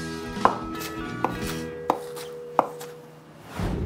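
Four crisp knife strokes chopping washed lettuce on a cutting board, spaced roughly evenly, close and clear with quiet kitchen room tone between.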